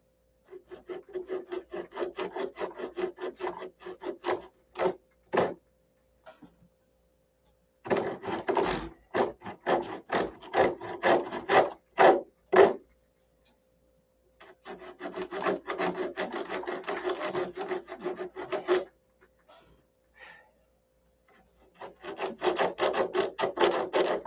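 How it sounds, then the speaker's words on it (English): Someone sands a wooden engine mount for a Vector 40 model by hand, producing dry, rasping back-and-forth strokes in several quick bursts separated by short pauses. "let's see if we can sand a little bit. Get it shaped anyway, at least on the bottom."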